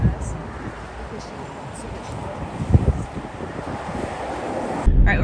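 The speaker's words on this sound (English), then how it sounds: "please forgive the road noise." Road noise inside a moving car driving along Turnagain Arm, a steady rushing roar of wind and tires with some thumps and a sharp bump near the end, heard without talk.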